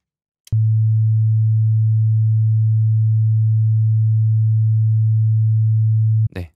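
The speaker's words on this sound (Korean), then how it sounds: "순수 사인파만 한번 들어볼까요?" Pure sine wave at A2 (110 Hz) from the FL Studio 3xOSC synth: a single low, steady hum that starts with a click, holds unchanged for about six seconds, then stops with another click.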